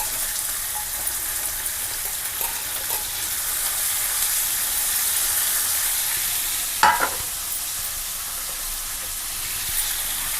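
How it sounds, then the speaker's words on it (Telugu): Cluster beans and onions fry in a hot pan with a constant dense sizzle and hiss, a brief stirring scrape midway, and no talking. "ఇవి ఆనియన్స్ వేయగానే గోరు చిక్కుళ్ళు వేసేసుకోండి"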